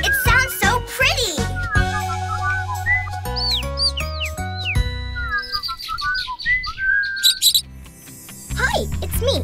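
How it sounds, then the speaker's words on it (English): Bright chirps and whistled bird-like tweets over a musical backing, with rising and falling notes repeating in quick bursts. "Whistle with the birds."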